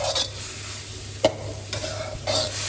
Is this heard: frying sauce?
yes